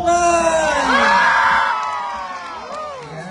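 An outdoor crowd at a band event in Guimbal, Iloilo, Philippines cheers, whoops and claps for a band, a dense loud wash of shouting and applause that slowly fades, with a voice over it.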